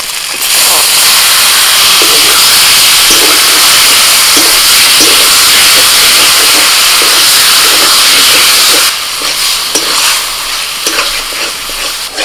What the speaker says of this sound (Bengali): মশলাটা ভালো করে কষিয়ে নিয়ে লোটে মাছগুলো দিয়ে দিচ্ছি